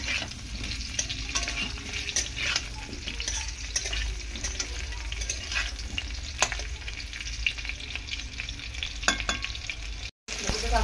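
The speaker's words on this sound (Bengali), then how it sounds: "একদমই লালচে লালচে করে আলুটা ভেজে নেব" Potatoes fry in a pan, giving a constant hiss of sizzling oil with repeated stirring scrapes and light knocks close by, with no speech.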